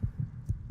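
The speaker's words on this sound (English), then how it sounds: "I'm hearing this heartbeat" Low thudding heartbeat effect from the Skyrim video game, signaling a near-death status, with four soft evenly spaced pulses, close and muffled, alone without talk.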